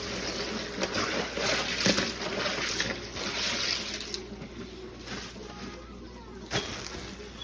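A turkey is lowered into a water brine for Thanksgiving, with continuous close sloshing and trickling of water and soft handling noises throughout, one brief louder splash near the end.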